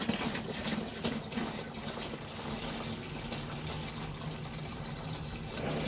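Water pouring steadily into a batch of birch sap wine, a faint continuous splashing trickle lasting several seconds with no talking.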